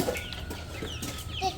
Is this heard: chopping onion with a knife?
no